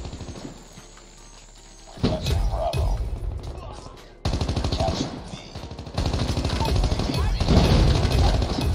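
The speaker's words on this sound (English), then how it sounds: "Oh, that's a rocket." Game gunfire and a blast of a rocket in COD Mobile crash loudly against a steady wash of automatic weapon fire, with a player voicing comments over the chaotic, dense battle noise.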